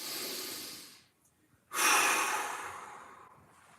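Two deep breaths during a mobility exercise, each a long, airy inhale-exhale close to the mic with a brief quiet gap between, no talking.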